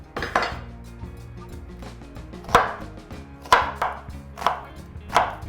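A knife slices through half a small onion and hits a cutting board in a few sharp, separate chops spaced about a second apart, close and clear over a low background hum.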